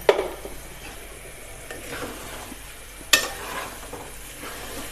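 Aloo anday curry, potato and egg with green chillies, coriander and garam masala, frying in a pan: a soft steady sizzle with a couple of sharp clinks of a spoon against the pan as it is stirred.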